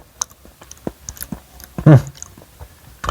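Century egg chewed up close, with soft wet smacking and small squishy bites in an irregular rhythm and one louder mouthful near the end.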